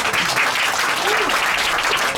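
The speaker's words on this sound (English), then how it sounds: "We should all applaud that." An audience applauds at a bookstore book launch event, with steady clapping that fills the room and voices mixed in throughout.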